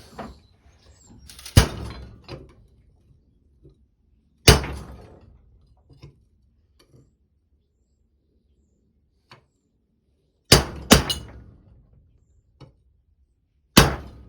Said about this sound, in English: I finally got it to move with this big chisel